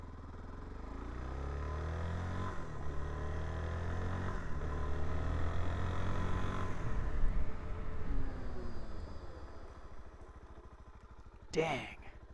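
Suzuki DR-Z4S motorcycle braking hard: a steady engine drone with falling, downshifting pitch sweeps as it slows, continuous and fairly loud, ending in a brief sharp squeal or scrape near the end.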